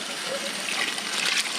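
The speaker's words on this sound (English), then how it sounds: "I'm going to go ahead and add this hot water" Hot, just-boiled water poured into a pot for a red cabbage dye bath, a steady loud splashing gush with no break that fills the whole moment.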